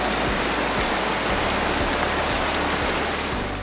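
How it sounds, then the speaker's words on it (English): Steady rain falls in a dense, continuous hiss with scattered drop patters across the whole stretch, fairly loud and even throughout, with no voices. "First up, rain."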